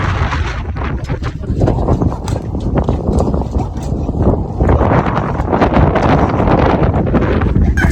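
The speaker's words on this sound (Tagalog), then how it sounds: "ramdam ko yung medyo malakas na hangin." Loud, gusty wind on an overcast day in the provinces buffets the microphone throughout, producing heavy rumbling and crackling blasts with no break.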